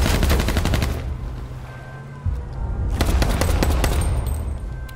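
Loud bursts of rapid automatic gunfire in a first-person shooter video game, a dense volley, a brief lull, then another sustained stream of shots.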